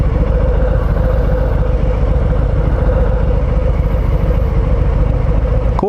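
Steady low rumble of a 2020 Harley-Davidson Fat Boy engine while riding, loud and close with constant wind roar, holding an even drone throughout before cutting off at the end.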